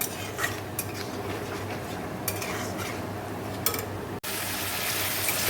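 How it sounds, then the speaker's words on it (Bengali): Spice masala with salt, turmeric and Kashmiri chili powder being stirred and fried in a pan, a steady close sizzle with scraping and occasional light clinks of the spoon, ending with a brief break and a hiss. "এবার ভালো করে মশলাটা কষে নেব"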